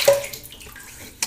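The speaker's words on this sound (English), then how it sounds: "All right, let me wet my face." Water splashing as hands wet a face before shaving, a brief close splash at the start, then a quiet pause and another quick splash at the end.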